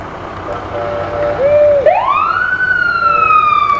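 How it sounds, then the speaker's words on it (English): Lyon Mountain Volunteer Fire Company engine 241 in a Fourth of July parade, its siren winding up loud and close in a rising then slowly falling wail over crowd noise and an announcer's voice. "Engine number 241, the Lyon Mountain Volunteer Fire Company."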